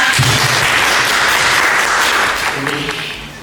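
An audience of women applauds at a hair salon event, a dense, steady wash of many hands clapping near and loud before tapering slightly at the end, with voices mixed in.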